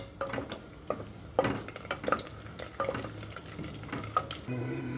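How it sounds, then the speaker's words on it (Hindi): Asafoetida sizzles and crackles in hot oil as the base of a Kashmiri collard greens and paneer dish, with close, irregular pops and spoon scrapes on the pan over a continuous fry and no talking. "देखिए थोड़ी सी हमने हींग डाली है, 2 पिंचेस के जितनी, और इसको हल्का सा तड़कने देंगे।"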